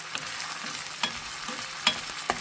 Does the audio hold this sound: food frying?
yes